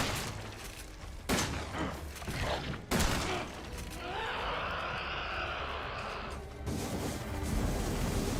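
Rapid gunfire and heavy impacts from the survival horror game Resident Evil 7, with two sharp loud bursts early on followed by a sustained rumbling, whirring stretch and another rise near the end.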